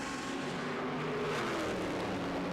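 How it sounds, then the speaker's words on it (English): Le Mans race cars in the pit lane during stops at the 2008 24 Hours, a continuous dense roar of engines and crowd-like wash, fairly distant and steady throughout. "Regular stop for car 9, and ditto for Capello coming in."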